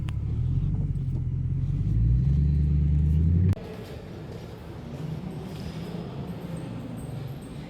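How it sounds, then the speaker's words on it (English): New Edge Ford Mustang GT with a Borla Atak exhaust, warmed up to operating temperature: a deep loud rumble that cuts abruptly partway through to a quieter, rougher idle. "when you're driving around, it does have a lot of crackles and pops"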